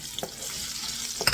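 Garlic fries in the oil rendered from meat earlier, for Filipino mung bean soup with shrimp and pork: a brief, faint sizzle with a couple of soft stirring clicks.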